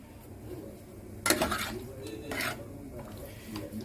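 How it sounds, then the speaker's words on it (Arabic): Marinated chicken pieces are turned in a pan: a sharp utensil clatter against metal, a second scrape a moment later, and faint clinks between, all fairly quiet and close. "هنقلب الفراخ كده"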